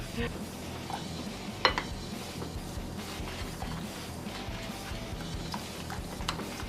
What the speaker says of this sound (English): Whisking it up, it actually smells really good and it has a good consistency.